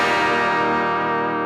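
Electric guitar played through an Ibanez Tube Screamer overdrive pedal, a single loud sustained distorted chord ringing out alone and slowly fading.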